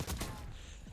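Shotgun blasts in the video game Boogie Ops, a burst of loud close gunfire at the start fading into rattling shots and game noise, with a voice faintly underneath.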